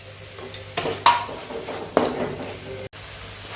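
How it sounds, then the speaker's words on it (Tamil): Green chillies tossed into sautéed onions in a pan for a vegetable samosa filling, giving a soft sizzle broken by a few sharp utensil scrapes and clinks from stirring, close by and without speech. "இப்போ அதில் பச்சை மிளகாய் போடுறேன்."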